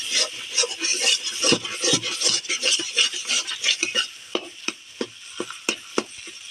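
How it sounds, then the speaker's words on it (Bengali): A spoon stirs banana flower curry seasoned with ground cumin and garam masala in a pan, giving close scraping and clinking strokes over a light sizzle, then sparser sharp taps toward the end, with no talking. "ভালোভাবে এরকম নেড়ে নিতে হবে।"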